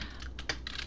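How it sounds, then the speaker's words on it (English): Close, soft taps on a computer keyboard, a few quick uneven keystrokes over a quiet background hum in an ASMR setting. "making keyboard sounds."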